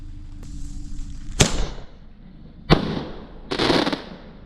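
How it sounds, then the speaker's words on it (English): A Cosmic Fireworks Star Strobe shot tube fires outdoors on Bonfire Night, with three sharp loud launch bangs spaced over a few seconds, each trailing into crackling hiss. "Now we're going to do one of these Cosmic Fireworks Star Strobe shot tubes."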